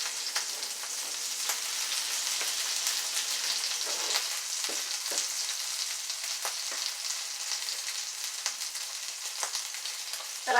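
Chickpea patties frying in a pan and pressed down with a spatula, a steady soft crackling sizzle broken by a few sharp clicks and scrapes, with no talking.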